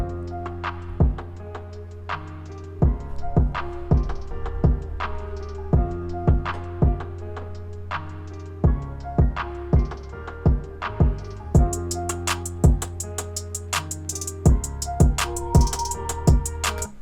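A repeating drum loop of sharp percussive hits over a sustained tonal bed, the sound brightening and washing out as automated reverb and filter sweep.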